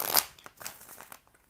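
Tarot cards being shuffled by hand, a quick papery riffle followed by a few soft, crisp flicks and taps that trail off, close and quiet.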